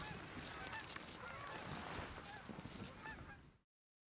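Canada geese honk repeatedly from a migrating flock over a field, a busy chorus of overlapping calls at moderate distance that ends abruptly in silence.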